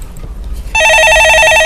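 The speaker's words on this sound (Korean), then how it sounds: "예, 전화 받아보겠습니다." A telephone rings loudly in a studio call-in show, starting after a short quiet stretch and then holding a bright, steady electronic trill.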